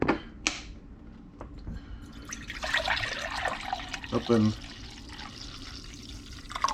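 Water is poured into a measuring cup for making king cake mead, a splashing liquid stream with drips and trickles close by, while a person talks briefly over it.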